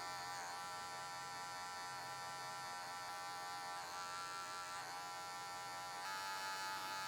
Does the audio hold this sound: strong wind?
no